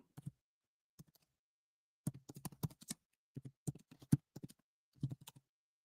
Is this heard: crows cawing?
no